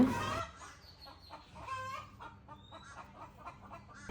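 A hen clucks softly and repeatedly nearby, following a brief loud noise at the very start.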